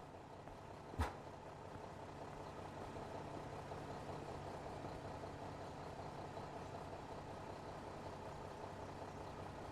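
A delivery truck's engine idles in Grocery Store Simulator, a steady low rumble holding evenly throughout, broken near the start by a single sharp click.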